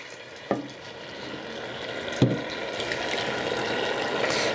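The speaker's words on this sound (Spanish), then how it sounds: "Le voy a mover para que quede bien bueno este jitomate" Tomato (jitomate) being stirred as it fries in a pan for a Mexican caldillo, giving a steady broadband sizzle with two sharp scraping knocks from the spoon, close and without talk.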